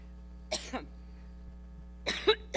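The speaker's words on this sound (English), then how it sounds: "Hillary having a coughing episode, I guess." Coughing fit from a recording played in a podcast studio, two separate bursts of harsh coughs about a second and a half apart, close and fairly loud over a low steady hum.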